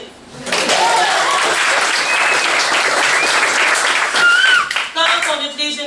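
An audience bursts into sustained applause after a call to clap during a French-language comedy show, a dense wash of clapping from many hands with a few cheers and whistles near the end.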